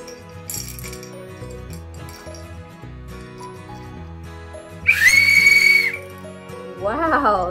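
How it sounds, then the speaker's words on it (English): A sharp, loud, high-pitched whistle from a Cub Scout blasts for about a second, standing out over soft background music, followed by a shorter wavering whistle. "Wow, that's a sharp, loud whistle, Cubby."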